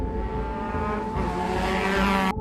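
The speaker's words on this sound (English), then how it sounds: "Somewhere beyond the cemetery wall, I could hear motorcycles passing" Motorcycles pass beyond a cemetery wall, a steady humming engine drone at moderate distance that swells slightly before cutting off.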